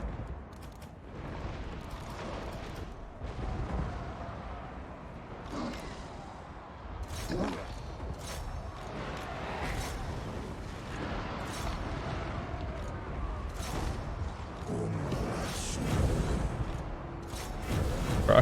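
Legionary artillery barrage in Total War: Warhammer 2, a continuous rumble of distant booms and scattered impacts layered over battle noise, sustained and fairly even in loudness throughout.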